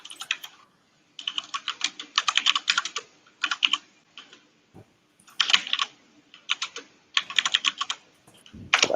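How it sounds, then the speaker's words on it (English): Fast typing on a computer keyboard, close and crisp, arriving in bursts of rapid clicky keystrokes separated by short pauses, with no talking. "Can you mute your shit? Your keyboard's annoying."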